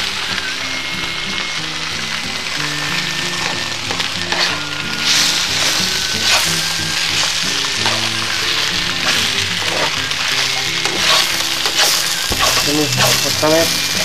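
Chow mein stir-fried and mixed in a hot pan with sautéed garlic and vegetables, a steady sizzle with scraping and tossing throughout, under quiet background music.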